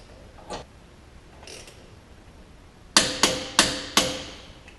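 Four sharp metallic clicks from a torque wrench tightening the primary clutch bolt on a 2016-18 Can-Am Defender 800/1000 during a clutch kit install, each crack ringing briefly, following a couple of softer ratchet or handling sounds.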